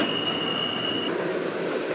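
A New York City subway train rolls along the tracks, loud and close, with a sustained high wheel squeal for the first half over a continuous rumbling roar.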